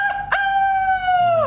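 A person's voice imitates a rooster crowing: one loud, sustained, tonal cry held steady that bends downward at the end, close and alone.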